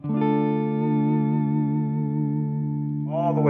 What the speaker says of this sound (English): this really had a good fat sound to it, all the way across the front pickup